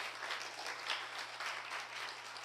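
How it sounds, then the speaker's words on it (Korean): A church congregation at a Friday worship service claps in encouragement for young musicians, a steady, fairly quiet patter of many hands sustained throughout over a low hum. "우리 격려 박수 한번 부탁드립니다"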